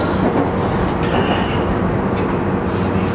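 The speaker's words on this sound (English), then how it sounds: "we're on the bullet train now" A Japanese bullet train rumbles along steadily from inside a carriage, with a loud, continuous roar and faint high squeals from the wheels.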